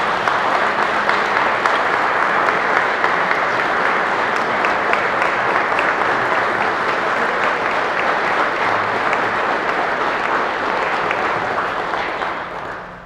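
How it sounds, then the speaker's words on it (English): At a McDowell County EMS headquarters ribbon cutting ceremony, the crowd gives retirees a loud, dense round of applause that holds steady for many seconds and then fades out at the end. "Please step forward so we can give our retirees a round of applause."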